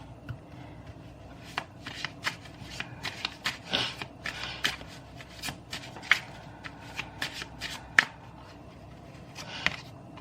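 Tarot cards being shuffled by hand, a run of soft riffling snaps and taps in uneven bursts, close and quiet with no talking.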